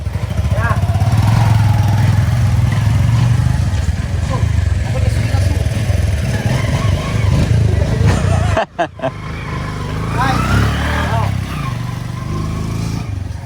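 A motorcycle engine runs steadily and loudly up close, with a brief drop partway through, while people talk over it.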